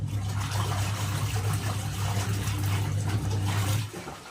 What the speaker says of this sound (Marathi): केळीच्या इकडचा पाईप आहे ना पाण्याचा, तो जरा लाव तिकडे